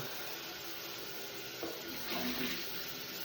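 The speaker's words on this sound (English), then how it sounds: "you always gotta wash the pan out" A pan is rinsed out under a running tap, a steady close rush of water with a brief louder splash near the end, and no one talks.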